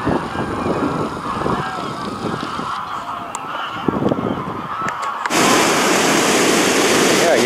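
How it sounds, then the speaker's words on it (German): Goose honking fades into a steady, broad rush of water that grows louder and fills the second half, water pouring over the overflow weir of a balancing structure at Alfsee. "hier ist der Überlauf von diesem Ausgleichsbauwerk"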